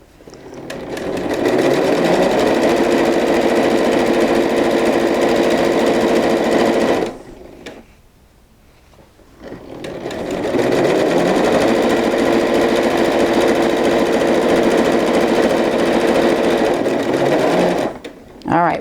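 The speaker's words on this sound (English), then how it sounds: "We're going to sew all the way down here until we hit the end of our" Sewing machine stitching a long curved quilt border seam, running close and loud with a steady rapid buzz, pausing briefly midway and then resuming for a second long run.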